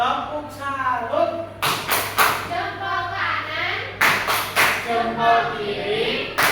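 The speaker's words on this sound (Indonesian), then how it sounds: "Tepuk salut." A classroom does a 'tepuk salut' clapping routine: sharp bursts of hand claps in short groups, fairly close, alternating with a teacher and children talking.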